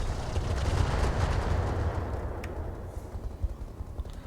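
Heavy weapons fire on a target in Battletech with the Roguetech mod, a dense rumbling barrage of shots and blasts that stays loud at first, then thins into scattered booms and cracks.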